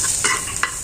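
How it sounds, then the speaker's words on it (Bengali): Green chili, coriander leaves and onion fry in oil with a close, loud sizzle and three quick stirring scrapes in under a second. "কাঁচামরিচ ধনিয়া পাতা আর পেঁয়াজটাও হচ্ছে ভাজা ভাজা হয়ে গেছে প্রায়"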